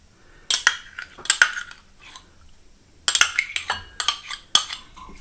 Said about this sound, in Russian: И взбиваю все венчиком до создания хорошей эмульсии.